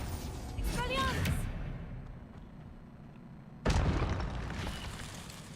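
A disarming Expelliarmus spell is cast in the game Hogwarts Legacy: a bright, warbling magical whoosh, then a fading rumble and a sudden loud burst that trails off, with a voice heard along with it.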